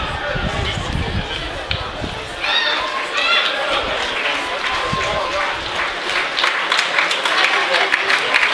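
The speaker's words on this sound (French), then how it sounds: "Applaudissements pour le joueur qui sort, qui est remplacé." A crowd at a rugby final between Tours and Béziers applauds a substituted player, with sustained clapping and chatter and a commentator speaking over it.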